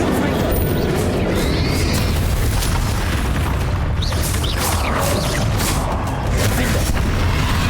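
Explosive spell blasts in the Hogwarts Legacy video game, a dense, continuous barrage of booming bursts and crackling impacts with game music and effects layered throughout.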